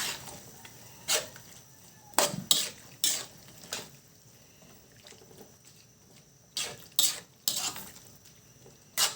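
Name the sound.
stirring pork giniling with potatoes and carrots in a pan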